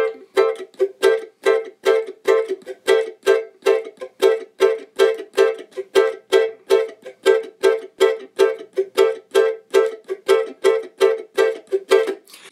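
Ukulele strummed in a cavaquinho samba pattern at a brisk tempo, steady rhythmic chord strokes repeating evenly throughout, close and alone with no talk.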